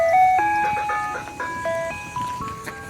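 An ice cream truck plays its chiming melody of bright, stepped electronic notes, steady and fairly close, with faint road noise beneath and no talking.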